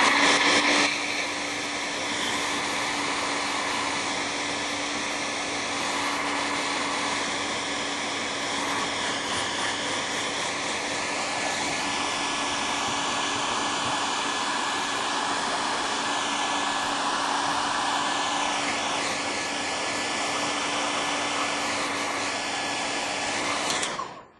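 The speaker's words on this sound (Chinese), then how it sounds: "继续吹干。" A hair dryer blows steadily for the whole stretch, drying paint on a gongbi figure painting of a Buddhist subject, with a constant loud whooshing roar and whine that wavers only slightly in tone.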